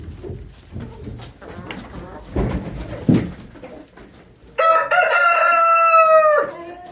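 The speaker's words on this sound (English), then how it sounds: "he always crows like he's so proud after" Faint shuffling and scratching, then a rooster crows once, loud and close, a long harmonic call that ends abruptly, in a snowy chicken yard.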